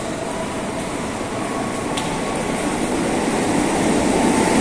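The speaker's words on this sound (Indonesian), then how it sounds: "Ada kereta yang lewat nih." A train rumbling steadily past nearby at Jatake station, Indonesia, a loud continuous roar with faint rail clicks, no voices.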